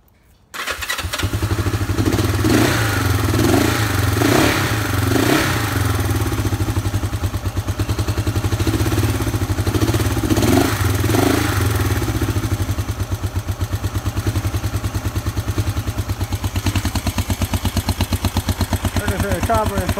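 A 1972 Honda CL450 Scrambler with a double overhead cam twin starts up and settles into a loud, steady, close idle, with a few blips of revving early on and a lumpy, clattering mechanical rhythm throughout.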